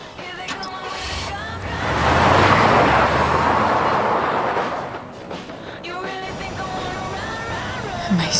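A car in Life is Strange: Before the Storm drives past with a swelling, broad road rumble that peaks and fades. Voices talk around it, with some music.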